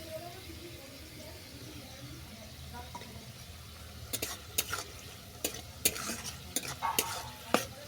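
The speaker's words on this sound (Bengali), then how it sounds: "এটা ভালো করে মিশিয়ে নিলাম" Fried muri chowmein ingredients are stirred in a pan: a low sizzle runs quietly for several seconds, then a spatula scrapes and knocks against the metal in a string of sharp, irregular strokes.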